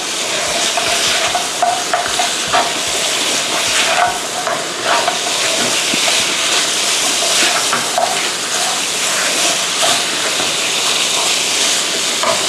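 Pork ribs and lemongrass stir-fried in a pan give a loud, steady sizzle and hiss, with repeated scraping and stirring strokes throughout and no voices.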